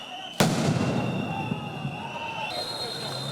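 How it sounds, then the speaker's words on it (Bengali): Police sound grenades go off at a street protest: one sharp loud blast cracks out, followed by a long echoing roar and crowd din, with a shrill high tone rising later. "পুলিশ আন্দোলনকারীদের ছত্রভঙ্গ করতে সাউন্ড গ্রেনেড ও রাবার বুলেট নিক্ষেপ করে।"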